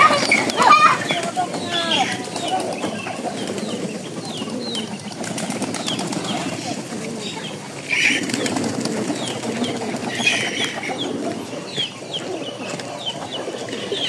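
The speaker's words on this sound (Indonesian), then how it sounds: "Beliau punya banyak burung merpati nih." Pigeons around a village house in a remote forest settlement, with cooing and bursts of wing flapping mixed into busy outdoor background noise, the birds moderately close and continuous throughout.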